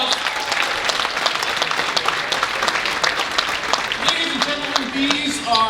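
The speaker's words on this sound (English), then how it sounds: "Let's give them another round of applause" A dinner crowd applauds steadily throughout a school fundraising event, dense clapping holding at a constant level, with a few voices and faint cheers rising beneath it near the end.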